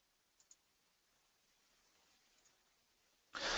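A computer mouse gives two quick, faint clicks near the start against a near-silent background. A louder burst of sound cuts in at the very end.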